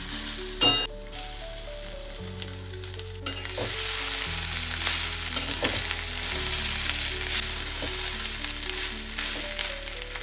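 Cooked rice fries with vegetables in a pan, a continuous sizzle with stirring scrapes and occasional utensil knocks over soft background music. No voices are heard.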